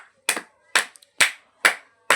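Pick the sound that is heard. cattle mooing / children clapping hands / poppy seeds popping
children clapping hands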